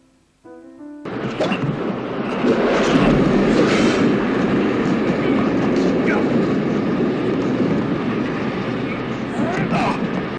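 A train rumbles loudly and continuously after a brief quiet opening, with rattling wheels and occasional squeals, close and sustained, in the train fight sequence of the film Octopussy.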